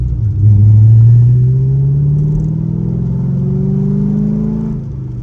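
A Chevrolet C6 Corvette on Michelin Pilot Super Sport tires drives in the rain, its engine rumbling loud and steady with a rising pitch as it pulls, then easing back near the end, with no talk.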